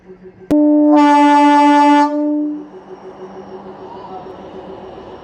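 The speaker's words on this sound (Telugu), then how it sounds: "కాచిగూడ ఎక్స్ప్రెస్ వెళ్ళిపోతుంది" Kurnool–Kacheguda Express, train number 17436, sounds a long, loud, steady horn blast close by, followed by the rumbling, fading noise of the train moving past.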